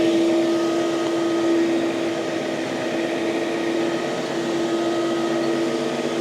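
A 15-inch Whittaker portable carpet cleaner machine runs on heavily soiled carpet, producing a steady, even motor drone with a constant tonal hum, close and continuous, with no talk.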